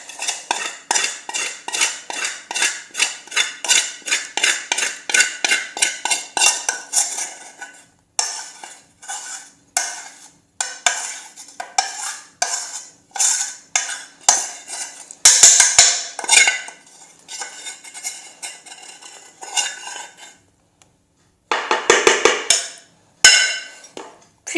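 A spoon or spatula scrapes and knocks repeatedly against a metal saucepan while emptying a chocolate cake mixture, making rapid rhythmic clinking and scraping strokes, close and loud, with short pauses between bursts.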